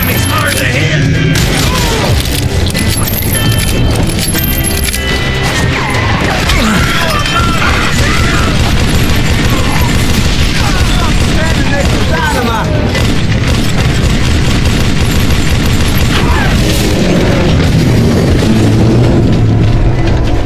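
Loud, dense game combat from Call of Juarez Gunslinger on a train: continuous booms, crashes and rapid gunfire bursts layered over music, with voices occasionally audible beneath the chaos.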